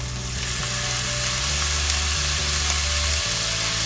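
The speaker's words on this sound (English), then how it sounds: "Okay, add some cooking wine." Fish head sizzling loudly and steadily in a hot pan as cooking wine splashes in, a dense close hiss throughout with no talking.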